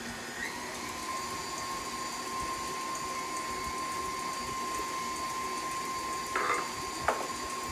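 Electric mixer whirring steadily while beating eggs into passion fruit cake batter, a constant close motor drone with a faint tonal hum and a couple of brief clatters near the end, no speech.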